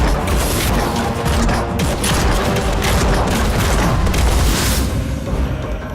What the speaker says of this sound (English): It fires a trio of smaller bombs simultaneously for less individual damage,